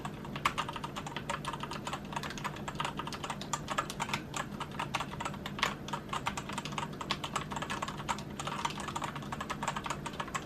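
Rapid, steady typing on a gaming keyboard, dense overlapping key clacks sounding close and fairly loud with no speech.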